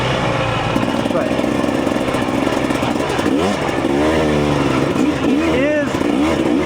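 A 2026 TE300 two-stroke motorcycle engine drones steadily while riding, with rising and falling revs and rough mechanical buzz throughout, a voice talking over it.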